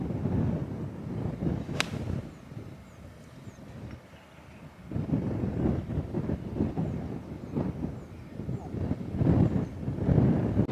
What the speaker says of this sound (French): mais là vraiment il y a du vent contre